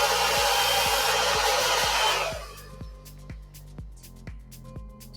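A hair dryer blow-drying hair with a brush for a big, bouncy 90s-style blow-out, a loud close whooshing roar that runs steadily for about two seconds and then cuts off, leaving a faint rhythmic pulse of background music.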